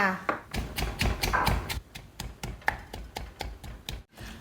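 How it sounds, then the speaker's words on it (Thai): A pestle pounds roasted shallots and garlic with salt in a mortar for a Northern Thai green chili dip, giving rapid repeated dull thuds about every quarter second, close by, while someone speaks over them. "โขกหอมแดงหอมขาวที่เราคั่วให้ละเอียดนะคะ"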